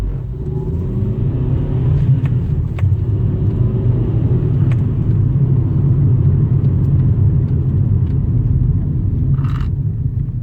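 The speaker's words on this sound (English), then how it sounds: "We'll do a hard start now and see how we get on." Car pulling away hard from a standstill on a very steep village hill with the clutch dropped, a loud steady low engine rumble and drone throughout, close to the microphone, with faint clicks and no talking.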